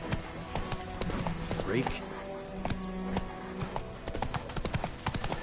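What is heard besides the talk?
horse galloping in video game Wo Long: Fallen Dynasty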